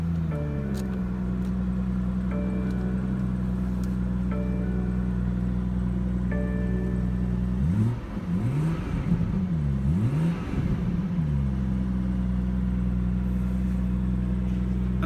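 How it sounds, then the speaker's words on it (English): A 2017 BMW 340i sedan's engine starts from idle with a held drone, then revs up and down in several swelling surges before settling back to a steady idle, heard from inside the car. "Push button start."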